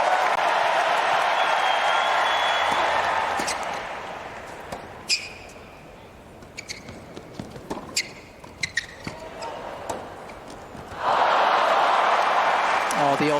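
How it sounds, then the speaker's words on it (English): Crowd applause fills a stadium at a US Open round-four tennis match between Medvedev and Borges, a broad roar at the start that fades into scattered claps and court sounds, then swells loudly again near the end. "the old don't care about the crowd applause"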